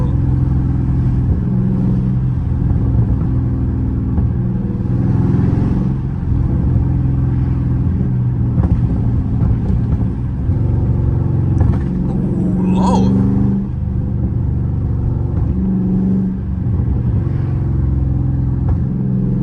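Dodge Charger Scat Pack engine rumbles loudly through a late-night drive, a steady deep drone with rising revs and surges throughout, while someone talks over it.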